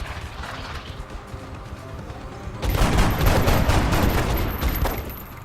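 Weapons fire in XCOM, a dense burst of shots that breaks out loudly midway after a quieter stretch of rumbling battle ambience, continuing as a sustained volley.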